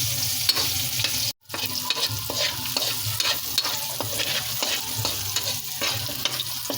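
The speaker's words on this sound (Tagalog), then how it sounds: "Yan, halu-haluin lang natin hanggang siya ay maging golden brown." Pork pieces sizzle steadily in hot oil while being stirred until golden brown, with scraping stir strokes repeating close by and one abrupt brief cutout early on.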